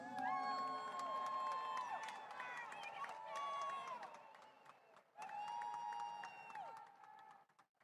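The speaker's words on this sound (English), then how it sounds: "Give them another round of applause." Crowd applause and cheering at the USA Powerlifting Raw Nationals, heard somewhat distant beneath loud voices and whoops, rising and falling in waves with a short lull near the end.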